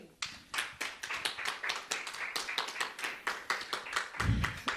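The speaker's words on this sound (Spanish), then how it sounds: "Un aplauso." Church congregation applauding together, a dense run of hand claps that holds steady and close for several seconds, with a brief low thump near the end.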